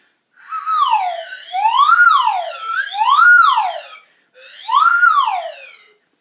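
A slide whistle glides up and down repeatedly in wavering swoops, mimicking a wailing siren, in two bursts separated by a short pause.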